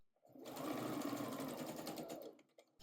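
A sewing machine runs steadily for about two seconds, stitching the side seams of a wool coat with the front and back pinned right sides together, a close, continuous whir that starts and stops abruptly.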